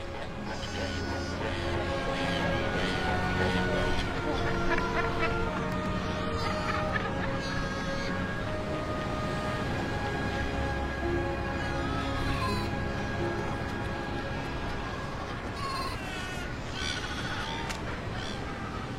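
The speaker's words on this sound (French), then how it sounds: "Dans cet espace très confiné, les otaries sont beaucoup plus serrées que sur la plage." A dense sea lion colony packed into a confined rocky space with newborn pups, a continuous din of overlapping barks, honks and bleating calls from adults and young, loud and close throughout.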